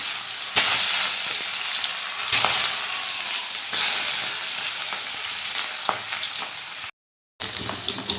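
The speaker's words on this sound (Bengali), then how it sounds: "তেলটা গরম হয়ে গেছে এবার আমি ভর্তি মাছগুলো ভেজে নেব" Bhetki fish pieces fry in hot oil in a wok, a loud, continuous sizzle with sharp crackling bursts as pieces are added or moved, then a brief gap before the frying resumes.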